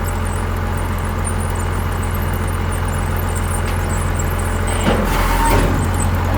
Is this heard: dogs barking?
no